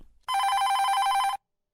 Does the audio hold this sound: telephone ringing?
yes